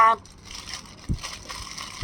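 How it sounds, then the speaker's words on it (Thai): Plastic packaging bag crinkling as a new Beyblade is unwrapped, short soft rustles and crackles between brief louder handling thumps, close by, with a voice speaking at the start. "แล้วยังต้องมาแกะถุงอีกรอบด้วยนะ"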